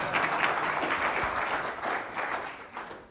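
At the opening of an in-person business summit, a crowd applauds steadily, a dense wash of overlapping clapping that slightly rises and falls in intensity and tapers off near the end.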